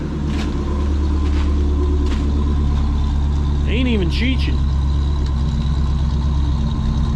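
A Ford Country Squire engine idles steadily with a low, constant rumble just after starting, while a person speaks briefly partway through.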